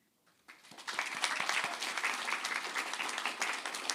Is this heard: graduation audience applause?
yes